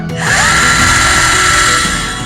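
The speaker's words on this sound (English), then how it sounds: "Drilling through 2 pieces of" A power drill with a sharp bit grinds steadily through two stacked pieces of 3mm aluminium in one loud, close, continuous whine lasting about two seconds.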